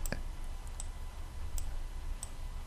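A handful of sharp, isolated computer mouse clicks, about four spaced out over a couple of seconds, sound close against a low room hum while a pen tool is used in After Effects.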